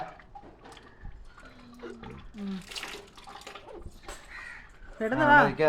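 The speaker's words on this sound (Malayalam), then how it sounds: "പൈപ്പ് നേരെ അടഞ്ഞില്ല." Water runs from a tap left not fully closed at home, a splashing gush that is faint under people talking at first and then swells loud and close near the end.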